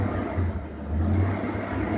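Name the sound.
1969 Chevy C10 truck engine revving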